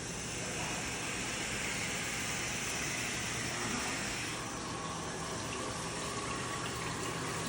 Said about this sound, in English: You just want to let the water flow.